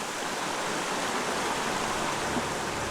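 Stream water flowing steadily for a meditation session, a dense, even rush of running water that fills the whole stretch without pause, close and moderately loud, with no voices over it.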